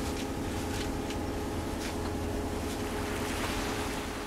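Constant wash of waves and rushing water around a moving boat on Lake Teletskoye in the Altai Mountains, with a low engine drone and wind noise throughout.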